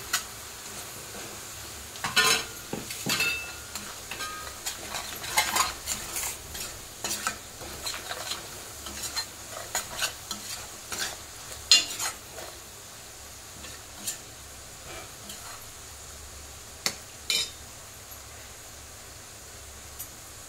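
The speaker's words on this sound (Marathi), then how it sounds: "हे बघा चांगला मसाला तेलात परतून घ्यायचा आहे" Spice masala fries in oil for Maharashtrian shev bhaji, a faint steady sizzle broken by repeated close scraping stirs of a spoon in the pan, busier at first and sparser later.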